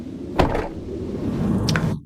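The door of a Volvo XC60 facelift SUV is shut, giving a solid thunk followed a moment later by a second softer knock, close by in quiet surroundings.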